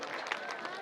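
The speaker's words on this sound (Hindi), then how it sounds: "तालियां।" A short burst of audience applause at a lucky draw event, with moderate hand clapping from a crowd. It lasts under a second and stays fairly even throughout.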